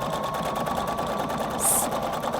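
A Husqvarna Viking Designer Brilliance 80 sewing machine stitches a decorative pattern in a fast, steady, close-up mechanical whir, with a brief higher chirp near the end.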